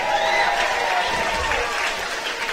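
Spectators applauding a Kenny Bain field hockey goal at the EuroHockey Championship II in Glasgow, Scotland, a steady wash of clapping and crowd noise under a commentator's voice.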